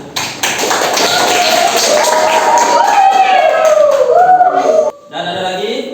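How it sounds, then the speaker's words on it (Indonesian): Schoolchildren in an Indonesian primary-school classroom clap together at close range in a loud burst, mixed with voices and chatter. The sound breaks off briefly near the end, then resumes. "tepuk tangan."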